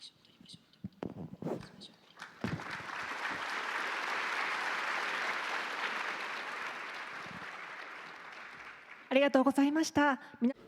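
An audience at a panel on net-zero, circular economy and nature strategies gives sustained applause, swelling after a few scattered claps and fading, with a speaker's voice before and after.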